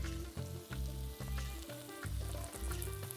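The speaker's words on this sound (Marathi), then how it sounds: "कांदा टाकून चांगला परतून घेऊया।" Chopped onion sautéing in a pan for Maharashtrian pavta (field bean) bhaji, a steady close sizzle with recurring soft stirring scrapes every half second or so, no voices.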